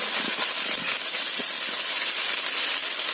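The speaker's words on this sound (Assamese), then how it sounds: "প্ৰথমতে ভেন্দিখিনি আমি ভাজি পেলাই উলিয়াই ল'ম।" Okra frying in hot oil in a wok gives a steady, dense sizzling hiss that holds at an even loudness throughout, with no voices.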